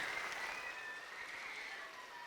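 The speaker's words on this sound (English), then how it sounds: "Let's give a big round of applause for Mr. Carpenter for being able to come back and visit us." Faint, distant applause from the audience at an elementary school dedication ceremony, greeting visitor Mr. Carpenter, continuing evenly before slowly tapering.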